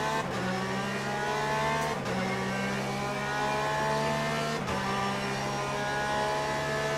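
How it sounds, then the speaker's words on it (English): Porsche GTE race car engines in the Le Mans Ultimate racing game at COTA hold a loud, sustained harmonic drone, briefly dipping twice as if shifting gears, with no talk. "As soon as these car engines started going, can't hear you anymore."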